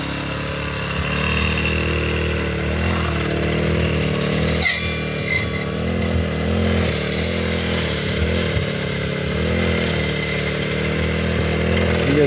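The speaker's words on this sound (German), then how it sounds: "Blatt da in der Maschine, in der Motorsense, und das schneidet richtig gut" A petrol brush cutter fitted with a new blade drones loudly and continuously, its engine revs swelling and dipping as it cuts, with one sharp impact partway through.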